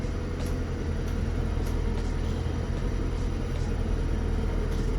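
A car engine idles steadily nearby, a low continuous hum and rumble with faint intermittent metallic ticks over it.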